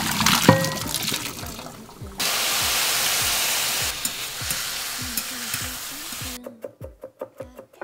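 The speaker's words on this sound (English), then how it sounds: "I'm gonna add a little more sesame oil because my pan is really dry." Shiitake mushrooms sizzle in sesame oil in a pan, a loud, steady close frying hiss with rhythmic stirring scrapes that continue after the sizzle suddenly drops away near the end.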